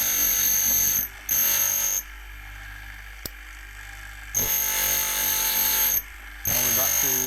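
A grinder works the teeth of a side and face cutter in a machine shop, a steady bright whine that cuts out and resumes in bursts as the cutter is fed around tooth by tooth.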